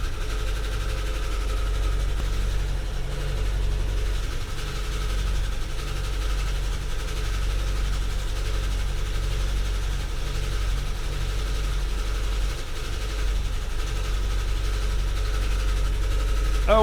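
A buggy engine holds a steady low drone while it runs on the brake under light load, close and constant with no talk.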